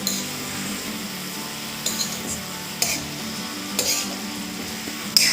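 Radish leaf bhujiya being stirred with salt in a pan over a medium flame, a steady soft sizzle broken by several sharp scrapes and clinks of the spoon against the pan, close and with no voices.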